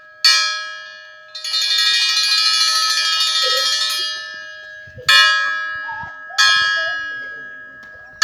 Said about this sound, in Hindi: ये अभी अप की घंटी लगेगी